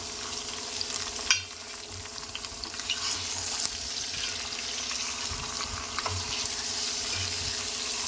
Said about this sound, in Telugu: ఇవి ఆయిల్లో ఫ్రై కావాలండి మంచిగా